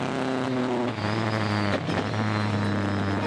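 Mazda and rear-drive BMW race cars in a Supercar Challenge race at Zolder circuit roar loudly, engines straining steadily as they fight for traction.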